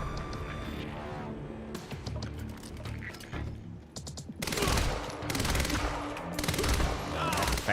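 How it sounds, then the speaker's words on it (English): Rapid bursts of submachine-gun fire from the video game Quantum Break rattle out, sparse at first, then dense and loud sustained volleys in the second half, with game music underneath. "Fast firing SMG right there."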